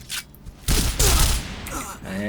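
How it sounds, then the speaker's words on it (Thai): A Dolphin Series shotgun fires in a shooter game, giving several sharp, booming blasts with short gaps between them, loud and close, with a voice talking between the shots. "ปืนกระบอกแรกลูกซอง"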